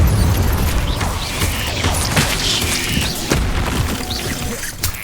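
The Incendio fire spell is cast in Hogwarts Legacy, producing a dense, loud whoosh and rumble of magical flames with crackling bursts and deep booming low end, continuous across the whole stretch.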